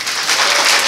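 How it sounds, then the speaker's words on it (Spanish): A church retreat audience in Perth Amboy bursts into brief, steady applause, a dense wash of many hands clapping at moderate distance with no speech over it. "Así que dense un aplauso."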